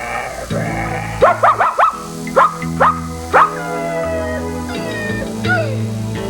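A person's voice imitates a whimpering, crying dog with a series of short, high, whiny yelps and then longer drawn-out whines, close and loud over steady background music.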